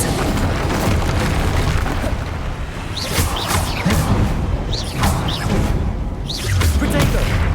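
Spell blasts in Hogwarts Legacy boom and burst one after another in quick succession, loud and close, with whooshing casts mixed in throughout.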